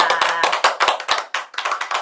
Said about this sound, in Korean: 귀한 수업 나누어 주신 천혜정 선생님께 먼저 큰 박수로 격려해 드리도록 하겠습니다